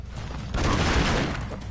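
A grenade goes off in the side-scrolling game Broforce, a loud, sudden blast swelling into a dense rumbling crackle for about a second before fading slightly.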